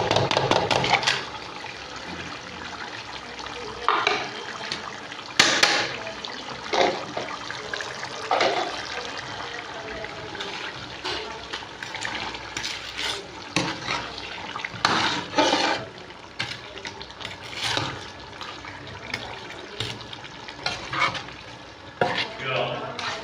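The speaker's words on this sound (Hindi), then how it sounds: "अब डालेंगे इसमें दही। दही डाल के फिर इनकी बनाई करांगे।" Yogurt is stirred into meat frying in oil in a pot for aloo chicken shorba. Continuous sizzling runs under repeated scraping stirring strokes, steady and close throughout.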